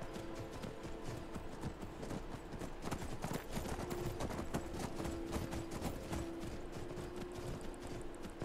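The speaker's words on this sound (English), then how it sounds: "Skyrim's mountain climbing horses are the stuff of legend." Horse hooves gallop in Skyrim, a dense, steady clip-clop of rapid hoofbeats that runs loud and close through the whole stretch, with faint game sounds behind.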